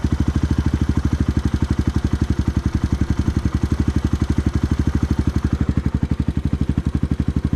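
A Suzuki DR 200 motorcycle fitted with a new aftermarket carburetor idles steadily up close, its single-cylinder engine putting out an even, rapid run of loud exhaust pulses throughout with no talking.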